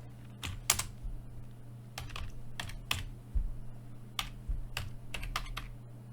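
Keystrokes on a computer keyboard while entering an Angular CLI command, irregular clusters of crisp clicks over a low steady hum, fairly close, with no one speaking.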